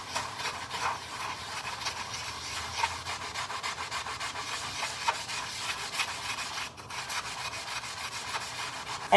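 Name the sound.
sponge scrubbing sticker marks off a wall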